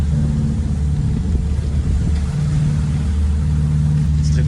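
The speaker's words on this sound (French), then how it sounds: "donc on va partir les moteurs" Sailboat engines idle with a steady low rumble and hum, mid-range engine drone holding near and continuous throughout, with no clear rev rise.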